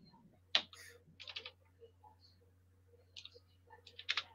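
Typing on a computer keyboard with a faulty, messed-up layout: scattered bursts of quick clicks and taps, close and moderately loud, over a steady low hum with no speech.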